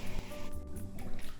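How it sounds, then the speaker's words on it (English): Honey and lotion being stirred into warm bath water in a tub, a continuous soft sloshing and trickling swirl heard close up with no voices. "In the meantime, stir some more."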